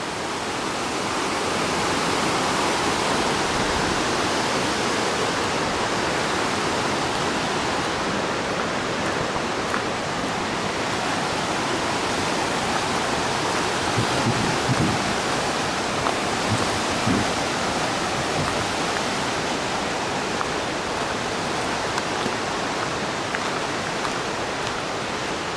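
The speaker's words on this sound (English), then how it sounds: "Let's clear and see the river down there." A river flows below the trail to Ramsey Cascades, heard as a steady, loud, broadband rush of moving water that stays even throughout with no talking.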